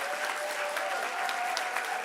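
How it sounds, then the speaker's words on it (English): Crowd at an 8th grade promotion ceremony applauding two students, a continuous, even roar of clapping filling the room at a moderate distance, with faint voices underneath. "Can we give Vito and Renaya another round of applause?"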